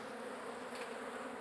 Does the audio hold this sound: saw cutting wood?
no